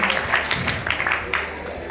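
Audience applause at a Hindi folk-dance stage performance: a steady patter of many hands clapping at moderate volume, with some crowd murmur underneath, continuing throughout.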